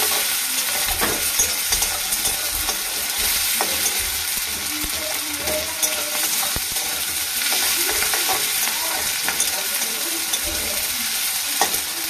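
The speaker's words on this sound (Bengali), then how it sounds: "রসুন কুচিয়ে রেখেছিলাম, ভালো করে ভেজে নেব।" Chopped garlic frying in a pan with black cumin seeds, a continuous close hiss with scattered pops and occasional stirring scrapes, steady and loud with no voices.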